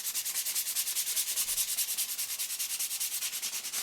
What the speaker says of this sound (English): So I'm going to go ahead and sand this one down. I just take 220 grit sandpaper